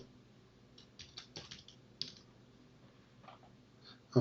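Quiet keyboard typing at a PC while entering an account username, with scattered irregular key clicks and a brief burst near the end, no talking.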